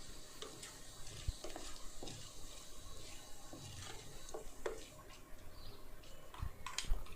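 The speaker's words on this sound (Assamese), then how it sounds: "1 চামুচ গোটা জিৰা ইয়াত দি দিম আৰু তাৰপিছত আৰু অলপমান সময় ভাজিম" Soft sizzle of whole cumin seeds frying in oil in a pan, punctuated by scattered clicks and scrapes of stirring, fairly quiet and close.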